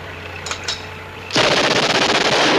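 Machine gun fire in a 1960s war film bursts in loud and continuous after a quieter opening with a couple of faint knocks, hammering rapidly to the end.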